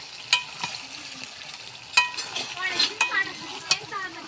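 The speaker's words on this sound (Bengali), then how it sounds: "আমার বেরেস্তা ভাজা কমপ্লিট" Sliced onions fry in hot oil for beresta, a steady soft sizzle broken by scattered sharp clinks and scrapes of a spatula stirring in the pan, close by.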